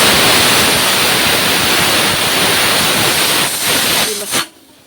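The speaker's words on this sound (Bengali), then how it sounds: "বরগুটি কেটে তারপর দেখো একটুখানি তেলে আর কি ভাজা করে নিচ্ছি" Chopped yardlong beans fry in a little oil with onion, garlic and chillies, giving a loud, steady sizzling hiss that drops off abruptly near the end.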